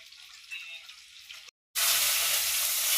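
Fish fries in oil with a soft crackle. After a brief cut it turns into a louder, bright, hissing sizzle that carries on to the end. There is no talking.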